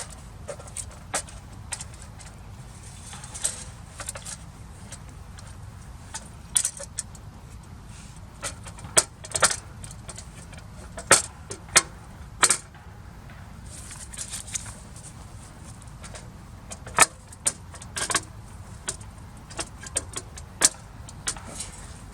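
Metal legs of a Nature Compact fully folding camp tent stove being swung open, giving a string of sharp metallic clicks, clacks and light rattles at irregular intervals, fairly close, with no talk over them.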